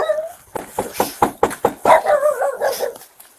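A dog at a house fires off a quick run of close, sharp barks that turn into whines and whimpers, loud and clear with no voices.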